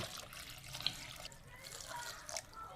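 Water being poured into a large clay pot holding red dates, snow pear and white fungus for a sweet soup, a steady close trickle and splash that runs continuously with no talking.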